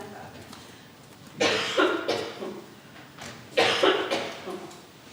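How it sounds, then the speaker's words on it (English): A person coughs twice in quick bursts, each a cluster of harsh, close coughs separated by a short pause. "Let me get a cough out."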